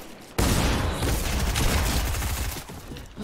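Dense, rapid gunfire in a Fortnite Chapter 2 squad match erupts suddenly and keeps up as a loud, sustained barrage of overlapping shots for about three seconds.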